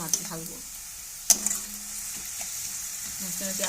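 Radish curry seasoned with turmeric and chili powder sizzles gently in a frying pan while being stirred, with a sharp scrape of the spatula and a few soft clinks over the steady frying hiss.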